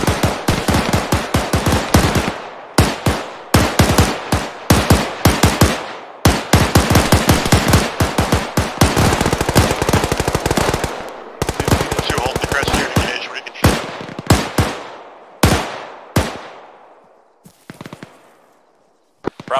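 Bunkers take sustained automatic gunfire in the Arma 3 video game: loud, close bursts and rapid shots come in dense runs with short gaps, then thin out to scattered single shots and fading echoes.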